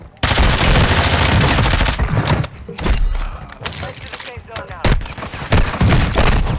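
Dense gunfire in a shooter video game: rapid automatic bursts and heavy impacts crowd together at close range, loud and nearly continuous, with brief pauses between volleys.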